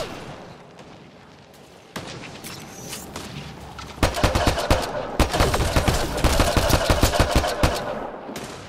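Heavy automatic gunfire in the sci-fi shooter Mass Effect Andromeda, with scattered shots that build into sustained rapid bursts and loud cracks, up close and intense.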